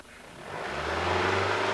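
Toyota Celica engine held at idle, a close, steady low hum that swells slightly in the first half second and then stays constant.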